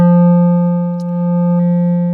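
Sine tone driven through Ableton Saturator on its soft sine setting, a steady loud hum rich in stacked harmonics, continuous with a brief click partway through.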